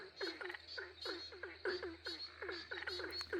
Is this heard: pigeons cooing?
no